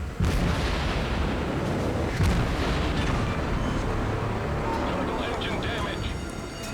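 Torpedoes strike an enemy battleship in a naval combat video game, a heavy booming rumble of impacts and explosions holding loud through the clip, with a voice talking over it.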